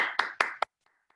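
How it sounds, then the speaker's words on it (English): A few sharp claps from an audience at a World Refugee Day workshop, three or four quick strikes close together, then a pause and two faint taps. "A big round of applause"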